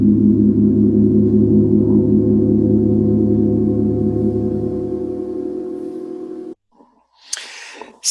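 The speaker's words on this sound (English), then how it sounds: "this is specifically 38 symphonic gong" A 38-inch symphonic gong sounds as a deep, sustained shimmering drone that slowly fades, then cuts off, followed by a brief breathy noise.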